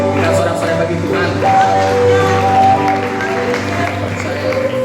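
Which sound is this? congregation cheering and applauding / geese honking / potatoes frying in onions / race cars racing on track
congregation cheering and applauding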